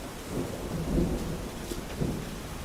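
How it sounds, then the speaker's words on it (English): Thunderstorm with steady rain in the hunting video game Virtual Hunter, a low rolling rumble of thunder swelling and fading over a constant rain hiss, with no voices. "The new storms are so sick."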